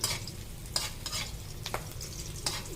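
Chicken sautéing in a pan with chicken liver about to go in: a steady close sizzle of frying with several scraping stirs of a spoon, no talk.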